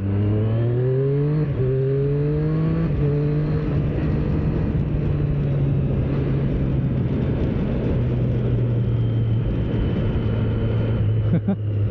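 A 2025 Triumph Street Triple RS motorcycle engine revs up through the gears, its pitch climbing in steps, then holds a steady loud drone with wind and road noise in heavy rain.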